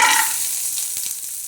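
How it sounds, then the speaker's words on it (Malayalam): Cashews roasting in ghee in a pan for adapradhaman payasam, a steady bright sizzle with faint stirring scrapes, close and fairly loud, easing slightly over a short moment. "ഈ പാനിലേക്ക് കുറച്ച് നെയ്യ് ഇട്ട് കൊടുക്കാം അണ്ടിപ്പരിപ്പ്"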